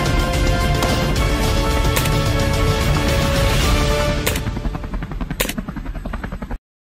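Helicopter used for hunting feral pigs in Georgia, a loud continuous rotor and engine drone dominating throughout, with a few sharp bursts near the end before cutting off.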